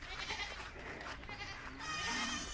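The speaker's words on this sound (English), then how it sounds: "You can probably hear the goats calling for me." Goats bleat and call at a farm, several overlapping wavering cries at moderate distance over outdoor background noise.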